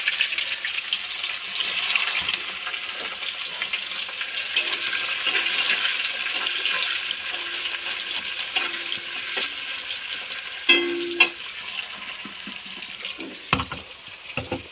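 Sliced onions fry in hot oil with whole garam masala spices, making a soft, steady sizzle. Occasional clinks and scrapes of stirring come through, and a couple of louder knocks sound toward the end.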